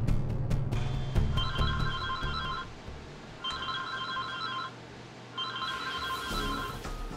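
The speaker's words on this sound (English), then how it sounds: "Ronnie, please pick up this phone." A telephone rings unanswered, three long bursts of a warbling electronic ring separated by short pauses, loud and close against a faint background.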